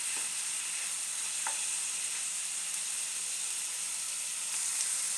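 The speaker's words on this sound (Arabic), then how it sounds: "الان بعد ما الفلفل تشحر مع البصله" Peppers and onion sizzle steadily in a hot frying pan, a continuous close, even hiss with a few faint clinks and no voices.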